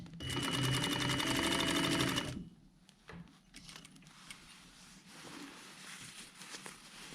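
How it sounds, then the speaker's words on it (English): A sewing machine stitching across the hem of a jacket lining, a steady close mechanical whir for about two seconds, then it stops and the fabric is handled quietly. "lay our raw edges together and sew across the hem"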